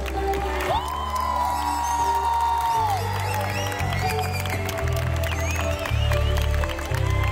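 A concert crowd in Madrid applauds and cheers at a show, sustained clapping and whoops spreading through the arena while singing and voices carry over the top.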